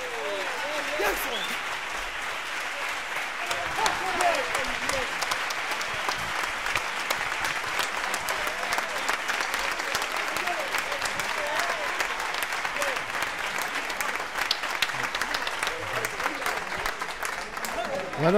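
A theatre audience in the stalls, mostly standing, bursts into loud, sustained applause for a carnival comparsa, a dense roar of clapping that fills the whole stretch without letting up.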